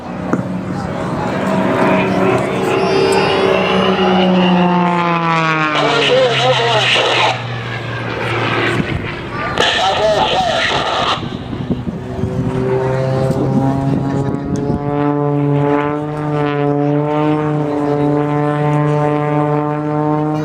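A propeller aerobatic plane performs a double avalanche loop at the 2017 Riverside air show, its engine droning loudly and steadily with pitch rising and falling through the maneuver, while an announcer talks over it.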